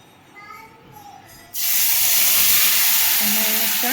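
Meat drops into hot oil with fried spices in a pan, setting off a sudden loud hiss partway through that settles into a strong, continuous sizzle close by, after a quiet start with faint background sounds.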